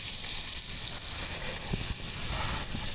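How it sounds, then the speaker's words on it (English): Butter melting in a pan on a stove, a soft continuous sizzle and hiss at moderate level with a few faint clicks, steady throughout with no talk. "we just want to melt our butter, but we don't want to brown it at all"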